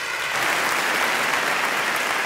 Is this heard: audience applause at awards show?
yes